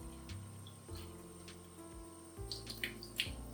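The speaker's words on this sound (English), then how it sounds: "You want to rinse it several times until the water is really nice and clear." Dried fungus is rinsed in a kitchen under running tap water, a faint steady trickle and splash with a few small drips and clinks, no talking.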